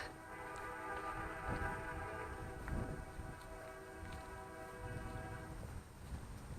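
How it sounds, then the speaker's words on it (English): Several trains sound their horns at once in the distance near abandoned apartments, the overlapping sustained tones faint and lasting through most of the stretch. "The trains are having a war over there with their horns."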